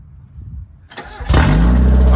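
A 1992 Mazda Miata NA engine cranks briefly, then fires up with a new MagnaFlow exhaust into a loud, steady, close idle.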